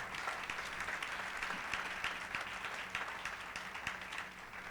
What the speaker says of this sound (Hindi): ताली बजानी तो ढंग से बजाया करो, जोर से बजाया करो